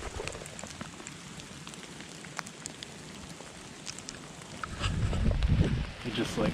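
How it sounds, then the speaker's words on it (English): Rain mixed with small pea-sized hail falls on a forest trail, a steady light patter of scattered ticks that swells into a louder, denser rush near the end. "literally it started to rain and now we're getting little pieces of hail"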